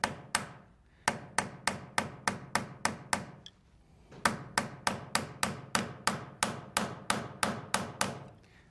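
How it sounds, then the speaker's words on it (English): Sharp metallic forging hammer taps on silver wire in a steady rhythm, a run of about eight, a short pause, then a longer even series of close, ringing strikes. "You go with light taps towards the center of the wire, and heavier taps towards the end"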